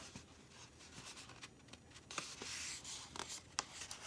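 A sheet of 8.5 by 11 inch paper, cut halfway, is folded into a card base, making quiet, soft rustles and light scraping strokes close by without talking.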